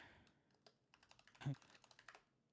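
Rapid computer keyboard typing, a quick irregular run of crisp clicks and clacks with one heavier keystroke near the middle, close and fairly quiet, with faint voices underneath.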